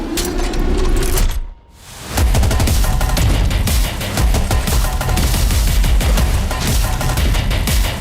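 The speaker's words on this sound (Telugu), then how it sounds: "ఆడు కాల్చాడు." Gunfire from a movie teaser, a dense burst of rapid shots mixed with a loud score, cutting out briefly for a moment of near-silence before dense crackling fire and music resume at full volume.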